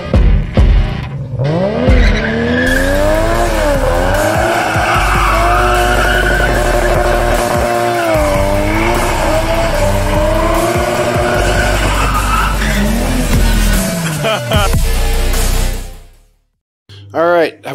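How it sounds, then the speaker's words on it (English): Car engine fitted with a cheap Amazon Armada Titan aftermarket intake, giving loud induction noise that rises and falls as the revs climb and drop, held for most of the stretch before cutting off near the end. "Induction noise."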